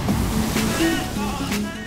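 Rolling surf washing onto Cox's Bazar beach under a storm warning signal, a broad continuous roar of breaking waves close by, with wind noise in the background.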